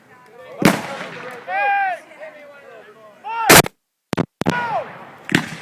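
Muzzle-loading muskets fire volleys at a Civil War reenactment on Memorial Day weekend at Greenfield Village, sharp loud cracks scattered among crowd chatter and shouting voices, with a cluster of shots in quick succession.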